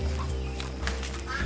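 Chickens cluck close by in a yard, with a continuous, busy chatter of short calls over a low steady hum.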